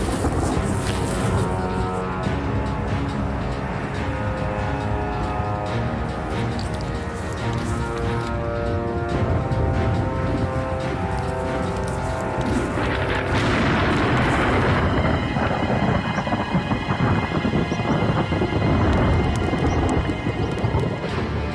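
Heavy rolling rumble and crashing booms of thunder from a dry electrical storm above the mountain timberline, loud and sustained with overlapping peals and no voices.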